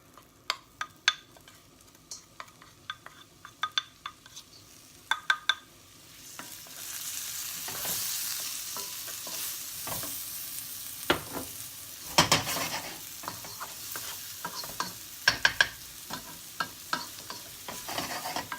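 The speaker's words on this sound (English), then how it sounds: "So in goes our onions, garlic, and ginger." Onions, garlic and ginger tipped into a hot pan for a goose curry. A few scattered utensil clicks come first, then a loud, continuous sizzle rises, punctuated by frequent spoon taps and scrapes.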